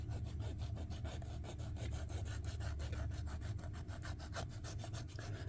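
Coarse abrasive rasping steadily back and forth over plastic parts of a 1/16 scale Panzer III tank model, close and continuous in even repeated strokes with no talk.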